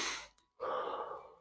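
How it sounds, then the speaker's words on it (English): A single breath exhaled through the mouth during a hip mobility stretching routine, a soft airy rush that follows a brief pause and is heard alone. "So let's try to breathe in through our nose, out through our mouth."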